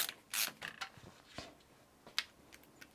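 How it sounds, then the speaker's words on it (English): A screwdriver drives screws into a Lian Li Lancool 217 PC case, giving quiet, scattered ratcheting clicks and short mechanical bursts in close, faint succession. "And then we'll just whiz the screws up."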